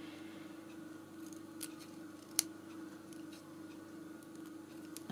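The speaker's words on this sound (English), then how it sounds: "then I can just trim that bit of tulle and thread that's hanging out the side" Scissors snip tulle and thread trailing from the edge of a handmade cottage journal, a few quiet, close cuts with one sharp crisp snap in a hushed room.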